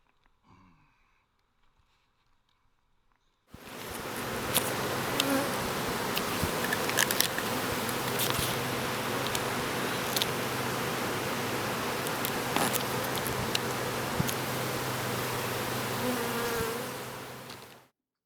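Honey bees swarm around an opened beehive, a dense continuous buzz from many insects close to the microphone that starts after a few quiet seconds and holds steady until the end.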